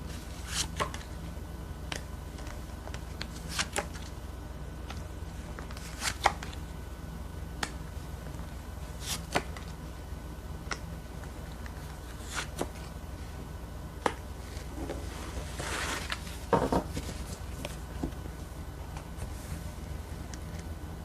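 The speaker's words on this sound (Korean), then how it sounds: "보조 카드 뽑아보겠습니다" Tarot cards being drawn and handled from a deck during a love reading, with a series of sharp, close, dry snaps and flicks spread across the clip, plus a brief rustling shuffle near the end; no talking.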